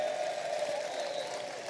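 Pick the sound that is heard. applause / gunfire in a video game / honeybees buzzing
applause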